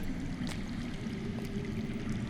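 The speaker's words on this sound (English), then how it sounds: "I hear water. From underground." Underground running water in a Telltale Game of Thrones scene, a steady low rushing flow with faint trickling, continuous and even throughout.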